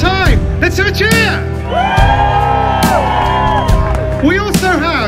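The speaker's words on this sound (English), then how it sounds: "Let's have a cheer!" An audience at a Christmas single launch and flash mob erupts into loud, sustained cheering, with whoops, shouts and yells rising over a dense crowd roar throughout.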